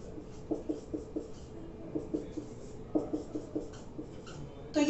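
Writing on a board during a chemistry lesson on haloalkanes and SN1 reactions: a steady run of short tapping, scratching strokes in irregular bursts, fairly close and moderately quiet, with no talking over it.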